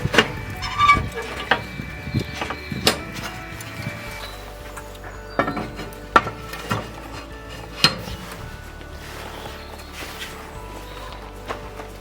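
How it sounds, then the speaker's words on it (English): Heavy heat deflectors being set into a charcoal grill, metal and ceramic clanks and knocks at irregular intervals, close and fairly loud over low background rumble. "I'm now going to put the heat deflectors in place"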